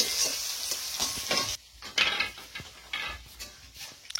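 Mother cooking fish curry at home, a spoon stirring and scraping in a pan over steady frying sizzle, with irregular clinks and scrapes up close.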